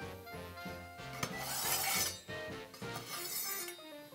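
A kitchen knife drawn through a simple handheld sharpener, giving metallic scraping rasps with light clinks in a rhythmic back-and-forth, close and fairly quiet with no talk.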